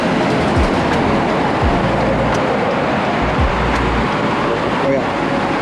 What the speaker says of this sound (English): I'm trying to catch this train.